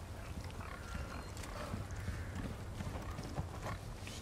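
A pig grunts in Resident Evil 4 Remake, low snuffling grunts repeating irregularly at moderate distance over a dull background rumble, with no speech.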